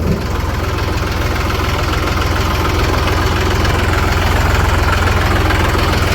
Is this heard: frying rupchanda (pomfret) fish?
no